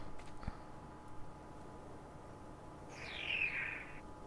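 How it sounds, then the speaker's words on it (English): A bird calls once in the game ARK Survival Evolved, a faint, high chirping trill rising out of a quiet ambient background near the end, with a soft thump earlier. "I like the sound this bird is making."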